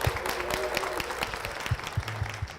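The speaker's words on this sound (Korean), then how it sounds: "박수로 모시겠습니다." Audience clapping in a church setting during a Korean Christian TV program, a steady patter of hands at moderate level with scattered sharper claps, no talk over it.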